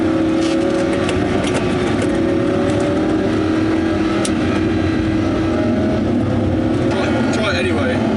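A Lamborghini with carbon ceramic brakes is pushed hard on a Spanish driving tour, its engine a loud, sustained drone with shifting tones throughout, while voices talk over it inside the car.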